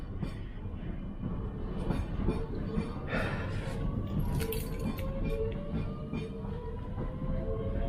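Steady low rumble of a near-empty London train rolling along the rails, with faint squeals and metallic whines rising over the constant roar.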